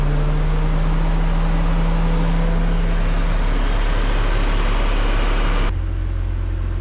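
A used car's engine idles steadily nearby, a constant low hum with a droning tone that shifts slightly before the sound drops to a quieter, deeper rumble near the end.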